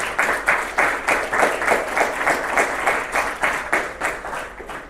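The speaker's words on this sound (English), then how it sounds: "I would like to raise a round of applause for all the doctors" A crowd at a cricket tournament closing ceremony applauding steadily, many hands clapping together in a sustained, fairly loud burst that rises and falls slightly without voices.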